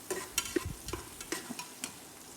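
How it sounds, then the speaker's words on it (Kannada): Onions frying in a pan for mutton biryani: soft sizzle with a series of distinct spatula scrapes and stirs at an irregular rhythm, close and moderately quiet, with no voices. "ಆನಿಯನ್ ನೀಟಾಗಿ ಫ್ರೈ ಮಾಡ್ಕೋಬೇಕು."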